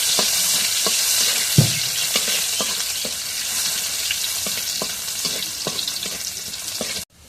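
Crushed garlic sizzles loudly in a hot pan for a layer chicken curry, with a constant hiss broken by regular stirring scrapes and taps, then cutting off suddenly near the end.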